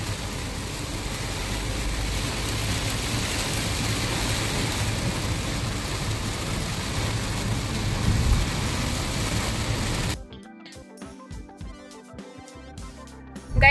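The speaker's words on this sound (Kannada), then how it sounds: "ಫುಲ್ ಜೋರ್ ಮಳೆ ಬರ್ತಾ ಇದೆ." Heavy rain falls during a drive by car, a dense steady wash of rain for about ten seconds before it cuts abruptly to music.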